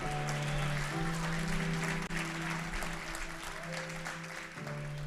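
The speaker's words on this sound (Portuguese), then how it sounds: "Só quem concorda com essa palavra, dá um aplauso bem forte aí." Congregation applauding during a church sermon, a continuous loud wash of many hands clapping that fills the room, with a steady tonal hum, likely from the sound system, underneath.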